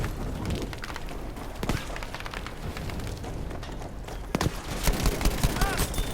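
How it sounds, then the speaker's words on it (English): Dense crackling bursts of rifle fire and distant booms from a soldier in a World War II shooter game pitting Americans against Germans, with a steady battle roar throughout and sharper shots near the end; someone talks over it. "Looks like he's shooting at the feet of some Germans."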